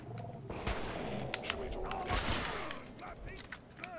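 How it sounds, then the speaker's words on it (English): Gunfire in Fallout 4 survival mode, several sharp shots cracking at irregular intervals against the player over an ambient game soundscape, with a voice reacting between the bursts. "The fuck is shooting me?"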